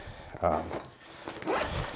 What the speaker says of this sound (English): despite all that, it zips up easily.